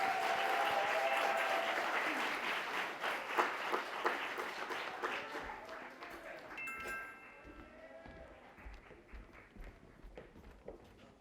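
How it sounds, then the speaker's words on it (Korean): A large audience applauds to welcome a high school team at a student mock-trial competition, dense clapping that is loud at first, then thins and fades, with a few voices underneath and other sounds near the end. "제주 4대 부설 고등학교 친구들을 힘찬 박수로 맞아주시기 바랍니다."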